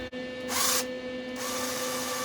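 A drill driving Robertson screws runs with a steady tonal whine, plus a short burst of louder grinding noise partway through, close and without talk.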